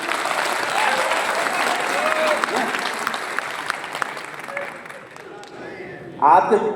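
A crowd at a Hindi-language public address about the UP state transport corporation applauds in a steady, moderately loud wash of clapping. The applause fades near the end before a voice cuts in.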